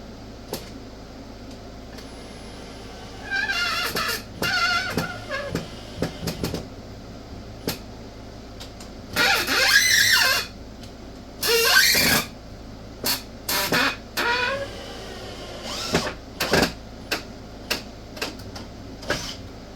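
A brushless power tool driving a fastener into a workbench being pulled from a wall, with several short loud whirring bursts and stutters that seem torque-limited, separated by pauses and clanks.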